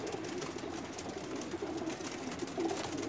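Pigeons on a rooftop loft in Jeddah, Saudi Arabia, a flock of flying birds, cooing softly and continuously in a faint, steady backdrop.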